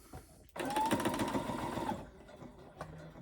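A sewing machine stitching down the sides of folded fabric, one loud, close mechanical whirring run lasting about a second and a half before stopping, followed by a faint click.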